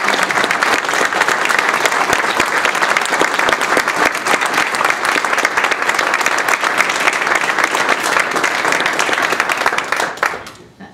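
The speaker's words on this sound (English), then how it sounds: "Would you join me in one more round of applause?" A press-conference audience at Millikin University, at an event with Caterpillar Inc., breaks into loud, sustained applause, a dense wash of many clapping hands lasting about ten seconds before tapering off quickly at the end.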